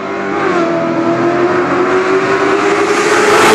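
A 1000-horsepower Corvette accelerates hard nearby, its engine note climbing steadily and growing louder over a few seconds into a raw, roaring rev, with no voices.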